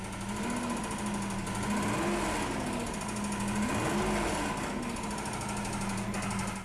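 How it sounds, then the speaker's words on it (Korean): A loud, continuous rapid engine knock from fuel detonation, a harsh metallic rattling that hammers steadily over a droning engine hum, with no pauses. "이런 엔진이 깨질 것만 같은 소음이 노킹이고"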